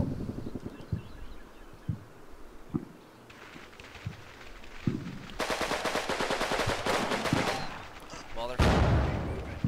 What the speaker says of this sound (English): So now I should start to see some rounds land in this general vicinity.